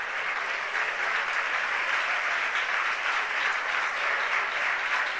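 Church congregation clapping in praise during a Malayalam worship service, a steady dense applause that keeps an even loudness for several seconds without pause.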